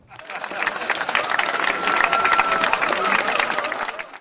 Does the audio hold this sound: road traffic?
no